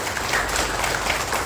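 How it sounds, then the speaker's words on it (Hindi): Audience applause fills a lecture hall, a dense, steady wash of clapping with no breaks, moderately loud and close throughout. "जोरदार तालियां बनती है।"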